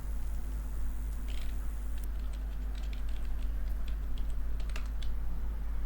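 A computer keyboard is used to type a command in a terminal, giving a short run of light, quick keystroke clicks over a steady low hum.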